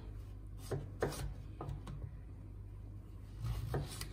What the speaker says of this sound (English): We cut it first in slices.